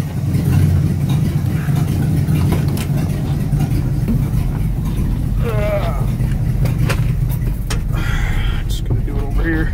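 An old 1971 GMC truck engine idles steadily and loud, a low rumble that runs the whole time, with a few brief voices and clanks in the background.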